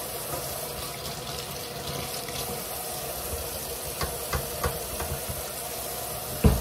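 Tap water runs steadily into a kitchen sink for handwashing, a soft continuous splashing hiss with a few light clinks near the end.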